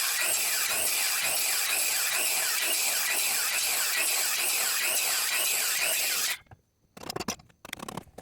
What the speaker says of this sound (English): I'm going to do this one with the radial saw and my chisels